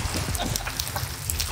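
Steady rain falling in Minecraft, a dense, even hiss of drops running through the whole short stretch, with faint scattered noises mixed underneath.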